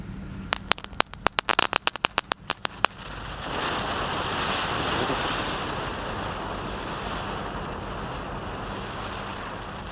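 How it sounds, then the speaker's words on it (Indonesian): Firework ground spinners, a whole pack of gangsingan lit at once, set off a rapid string of sharp crackling pops for about three seconds, then give way to a steady loud hissing whoosh as they spin. "di sini ada gangsingan atau roda gila 1 pak sekaligus"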